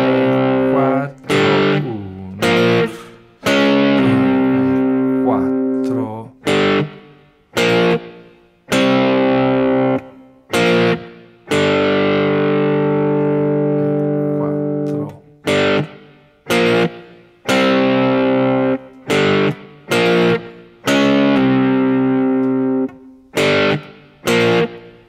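Distorted electric guitar plays a riff slowly, chunky chords ringing in the familiar start-stop pattern with short silences between phrases, loud and close, with a count-in voice among the gaps.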